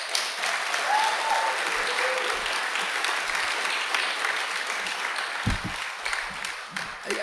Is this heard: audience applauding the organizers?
yes